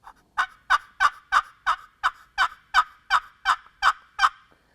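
Wooden turkey box call played with light pressure to imitate a hen waking up, about a dozen evenly spaced raspy yelps in a steady rhythm, close and clear with nothing else heard.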